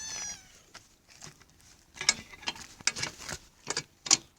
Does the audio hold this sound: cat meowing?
yes